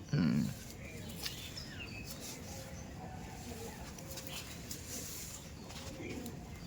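Pigeons, including female birds, in a winter pigeon-keeping setting give one short, low coo at the start, followed by a quiet room-like hush with faint rustles.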